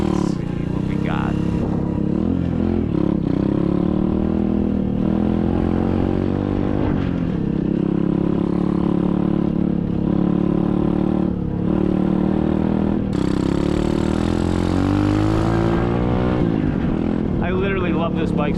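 An SSR 125cc dirt bike engine drones loudly and continuously while riding on knobby tires, its pitch rising and falling with throttle changes as a rider talks over it.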